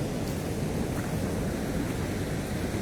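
Rough sea waves washing over the beach along the Batumi boulevard after a storm, a constant loud roar of surf and wind with no breaks or voices.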